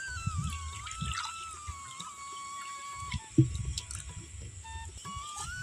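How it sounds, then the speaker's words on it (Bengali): Water trickles and splashes into a bowl being measured out for powdered milk in a home kitchen, soft intermittent pouring and dripping with a few clinks, fairly quiet. "এক বাটি গুঁড়ো দুধের জন্য ওই একই বাটি মাপ করে নিয়ে নেব দু বাটি জল"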